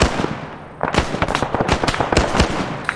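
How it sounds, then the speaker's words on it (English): In Arma combined-arms combat, a loud grenade blast goes off near the one-second mark, and sharp cracks of gunfire and further bursts keep following through the rest of the battle. "Oh, that was some good grenade"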